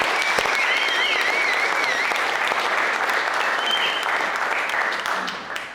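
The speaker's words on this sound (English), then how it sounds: "So give him a round of applause." A roomful of colleagues at a monthly all-team meeting gives sustained applause, steady dense clapping with some whistles above it, tapering off near the end.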